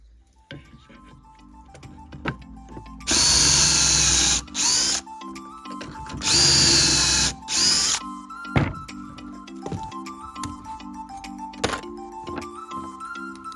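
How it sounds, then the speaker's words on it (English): Pocket holes drilled with a Kreg jig into old pallet boards, two loud bursts of a power drill, each a couple of seconds long, separated by short pauses, followed by knocks and clicks from handling the boards. "I used my Craig jig to create 2 pocket holes on either side of 2 of the boards."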